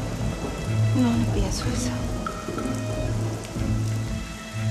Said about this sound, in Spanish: Barbaridad está granizando